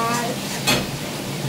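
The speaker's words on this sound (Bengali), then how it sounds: "এই যে মশলা কষানো হচ্ছে।" Spice masala for a duck egg curry frying and being stirred in a pan, giving a steady close sizzle with a brief louder scrape partway through.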